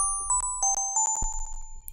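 The Vital software synthesizer plays a quick run of glassy FM bell notes built from two sine waves, one set three octaves above the other. The chiming tones repeat in a rapid, uneven rhythm, clean and close with no talk.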